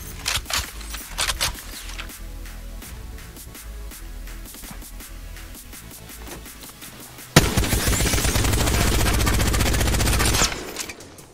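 Devotion light machine gun in Apex Legends fires long sustained bursts, a rapid, loud rattle that speeds up into an even denser stream of shots before stopping abruptly.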